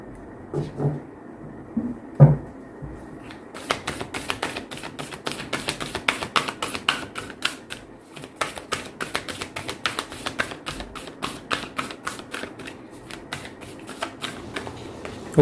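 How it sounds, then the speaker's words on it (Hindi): Tarot cards taken out and shuffled by hand, a steady run of crisp riffling and tapping bursts that carries on for several seconds after a few light handling knocks at the start, close and fairly quiet. "कार्ड्स सबसे पहले निकाल लेते हैं"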